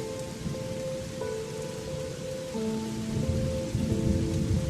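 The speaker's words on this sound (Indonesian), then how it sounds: "Dan tak lama hujan pun turun cukup deras." In a horror video game, dense, steady rain pours down with a constant hiss, while a faint tonal hum runs underneath.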